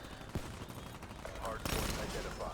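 Enemy sniper fire in an online multiplayer shooter game, sharp gunshot cracks at about 0.35 and 1.7 seconds amid a busy battle soundscape, with a voice talking over it.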